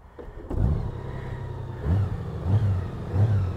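A 2020 Honda Gold Wing with a flat-six engine starts up and revs close by, a smooth low growl that swells in several short blips over a steady idle.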